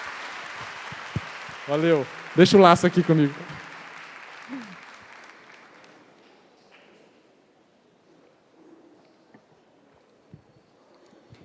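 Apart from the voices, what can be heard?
audience applause for the assistants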